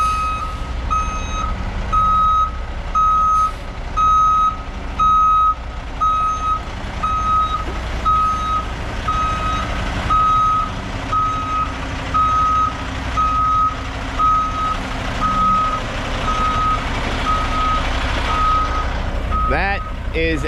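Loud, steady reversing beeps pulse from a large truck hauling oil-contaminated soil dug from under pavers, repeating evenly over a rumbling diesel engine throughout.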